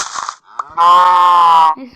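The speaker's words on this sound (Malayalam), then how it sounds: "പിന്നെയും പശു." A cow mooing in the video game Minecraft, one loud close drawn-out moo lasting about a second, preceded by short game sounds.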